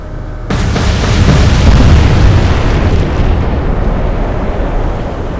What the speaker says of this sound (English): Here come the torpedoes.